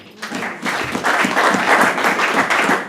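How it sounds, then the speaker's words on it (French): A church congregation applauds in a dense, swelling burst of clapping that builds quickly and holds steady, loud and close. "On acclame l'Éternel."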